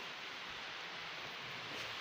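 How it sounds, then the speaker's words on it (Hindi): Heavy rain pours down steadily as a dense, even hiss that stays at a constant level throughout, with no voices. "बरसात हो रही बहुत तेज़ी से।"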